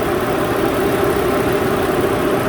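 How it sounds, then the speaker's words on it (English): Steady, loud engine drone from a 2008 Toyota RAV4 with misfires on cylinders 2 and 4, running with a constant dense rumble and no distinct breaks. "So I revved the engine up a little bit."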